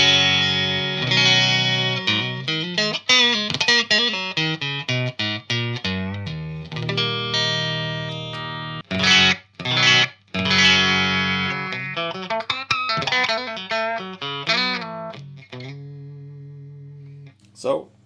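An electric guitar played through a Marshall amp's classic gain channel, set fairly clean, runs bright single-note riffs and chords with a few short gaps and a ringing final chord.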